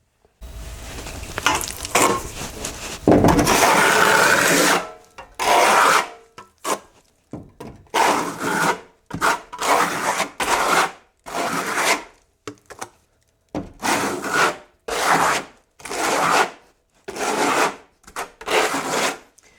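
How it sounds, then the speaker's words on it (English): Trowel spreading coarse plaster mixed with silica sand onto a wall, making gritty rasping strokes: one long swipe, then about a dozen short, evenly spaced scrapes with brief silences between, close and clear with no talk. "I'm gonna apply my plaster, and I'm gonna apply it tight"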